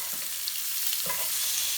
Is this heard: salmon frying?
yes